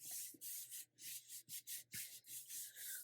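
A folded paper pop-up card is rubbed firmly to crease it. Quick repeated swishing strokes in an even rhythm, close and soft, with no voices.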